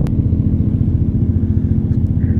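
Xciting VS 400 scooter with an upgraded aftermarket exhaust pipe, idling with a loud, steady low throb and slight revving, close by, with no talk over it.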